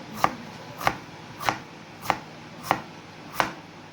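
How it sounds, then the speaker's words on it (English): A kitchen knife chops through an onion on a cutting board: six crisp, evenly spaced knocks about 0.6 seconds apart, close and clear with no talking. "you can also cut the onion like this as well"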